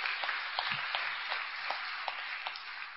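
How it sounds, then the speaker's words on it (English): Audience applause in an Alcoholics Anonymous meeting hall, a steady wash of many hands clapping for about three seconds, fairly distant and even, with no talk over it. "You guys are applauding yourselves"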